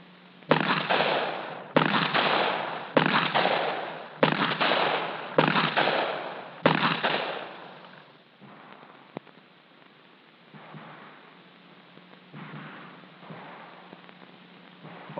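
Handgun shots fired at close range with natural point shooting in a 1974 FBI firearms training film: six loud, evenly spaced reports with long ringing tails, then quieter scattered pops in tinny old film sound.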